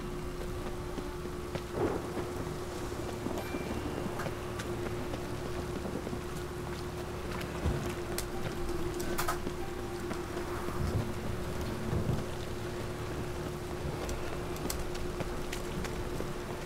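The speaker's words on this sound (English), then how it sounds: "A storm. Damn it." A thunderstorm in The Witcher 3: Wild Hunt brings a steady, dense hiss of rain with low rumbling thunder underneath and a faint sustained hum, continuous throughout with no speech.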